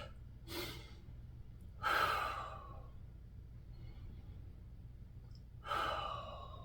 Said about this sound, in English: A couple of deep breaths.